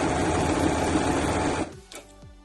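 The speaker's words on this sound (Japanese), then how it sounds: "ここにジグザグをかけていきます" Sewing machine running a continuous zigzag stitch along the pocket opening edge of a handmade tote bag, loud and steady, then stopping abruptly with a few faint clicks and handling noises.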